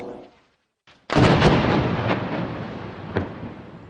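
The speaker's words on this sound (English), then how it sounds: "Israeli missiles targeted a tower block housing international media organizations" Missile strike on a tower block in Gaza: after a brief near-silence, a single heavy blast booms out and rolls into a long decaying rumble with a sharp crack near the end.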